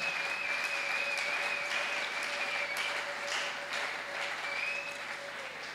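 A church congregation claps together in sustained, dense applause that rolls on steadily, with a faint held tone ringing underneath and no voices over it.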